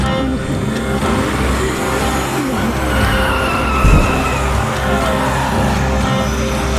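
A car in a cartoon chase drives fast with a constant engine roar and tire noise, skidding loudly with a squeal and a brief thump in the middle, all close and steady throughout.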